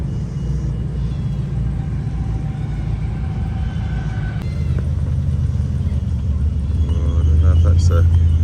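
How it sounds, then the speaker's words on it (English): A Triumph Stag's 3-litre V8 rumbles steadily and fairly close at an outdoor car show, its low drone swelling slightly near the end while people talk over it. "That's a 3-litre Triumph V8."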